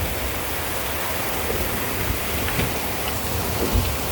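Rain pours down steadily during a storm, a dense, even hiss at constant loudness, with a few faint low thumps underneath and no voices.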